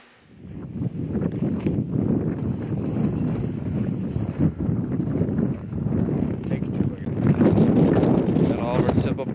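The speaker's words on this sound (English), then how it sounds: "really, really windy, I would say" Strong wind blasting across open ice at a North Dakota walleye ice-fishing spot, a loud continuous roar buffeting the microphone from start to end, with speech mixed in.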